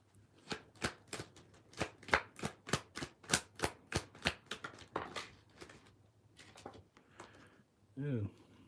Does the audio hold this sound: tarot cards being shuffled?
yes